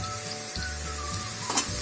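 Cumin seeds hitting hot refined oil in a pan for mash (urad) daal, giving a steady close sizzle with faint stirring scrapes, no talking.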